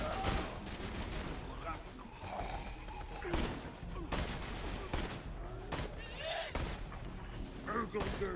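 Sniper rifle shots crack out in Borderlands, a handful of sharp, loud bursts spaced a second or so apart, with a voice talking between them.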